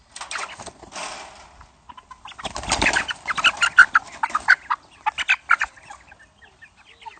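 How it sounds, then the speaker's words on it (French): Several roosters, Sussex and Coucou de Malines breeds, clucking and cackling nearby in a mobile farm pen, in bursts of short, choppy calls with brief quiet gaps between flurries. "Vous voyez qu'il y a différentes variétés de coqs."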